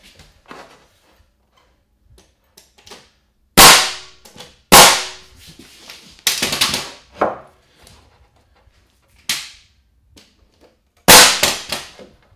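Hammer blows nailing wooden studs together while framing a basement wall, sharp loud separate strikes at uneven spacing, some in quick pairs, with quiet gaps and faint handling noise between them.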